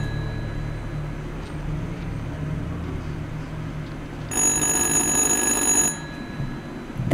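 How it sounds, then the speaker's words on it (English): A telephone rings in the horror video game Little Hope, a bright electronic trill lasting about a second and a half, heard over a low ambient rumble. "The phone is ringing."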